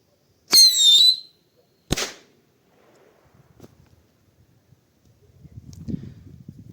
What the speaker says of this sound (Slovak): Ako prvé ide pískajúca raketka